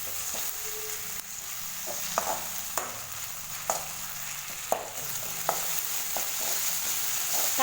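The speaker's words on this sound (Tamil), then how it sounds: "தக்காளி பார்த்திங்கன்னா ஓரளவுக்கு நல்லா வதங்கிருச்சு." Tomatoes with ginger garlic paste sauté in a pan under a constant sizzle, punctuated by a series of sharp spatula taps and scrapes at irregular intervals.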